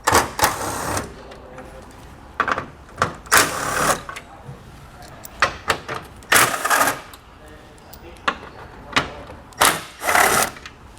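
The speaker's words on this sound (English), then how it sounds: "We'll use a 10mm socket to remove these 4 bolts." A ratchet with a 10mm socket removes grille bolts on a 2018 GMC Sierra 1500. Rapid clicking bursts come in short, close spurts with pauses between them. Speech is heard as well.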